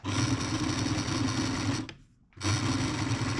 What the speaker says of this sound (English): Now we're going to come and stitch along here to hold it all in place